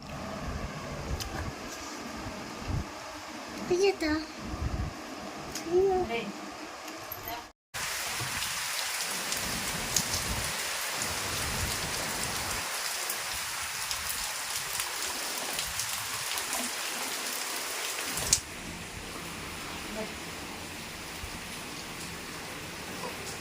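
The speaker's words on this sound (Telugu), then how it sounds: "బయట గాలి వాన" Steady wind-driven rain pours down with a broad hiss for most of the stretch, interrupted briefly by a short silence, with muffled thumps and bumps early on.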